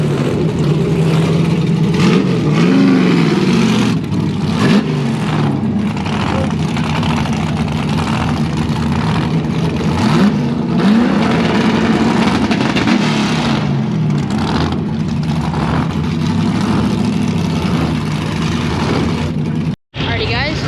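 A nitrous drag race car at the track holds a steady, loud engine roar while setting its tires, with the revs rising and falling and a brief cut near the end, as people talk over it.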